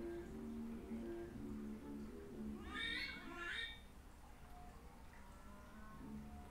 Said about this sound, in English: Fucking cat, you gonna try and steal my hot dog again?